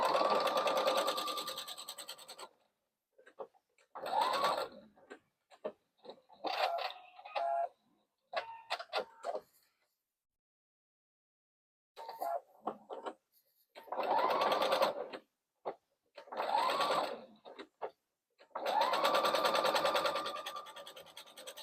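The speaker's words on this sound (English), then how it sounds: "sew just a couple of inches in on either side and leave a space big enough to turn the whole bag through" Sewing machine stitching the seams of a beginner tote bag, running in several bursts of steady, close motor whir with short pauses between, no voices.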